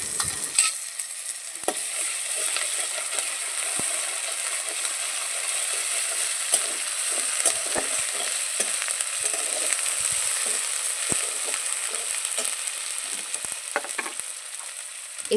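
Chopped onions with a spoonful of garlic paste fry in a pan, a steady sizzle running throughout with occasional spoon scrapes as they are stirred, close and without speech.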